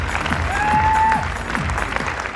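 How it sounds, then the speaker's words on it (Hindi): An audience at a talk claps steadily, loud and sustained, with a brief whistle rising above the applause. "एक बार जोरदार तालियां इनके नाम पर बननी चाहिए।"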